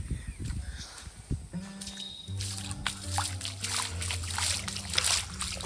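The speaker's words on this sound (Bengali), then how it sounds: "এই জল দিয়ে যেতে হচ্ছে।" Wading through floodwater beside an overflowing rural pond on a rainy day, close sloshing and splashing steps in shallow water, with tonal sounds and background noise rising over the last few seconds.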